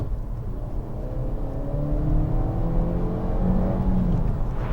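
A 2018 Suzuki Vitara S engine pulls hard under acceleration, a steady loud drone with rising harmonic pitch across several seconds, no voices over it.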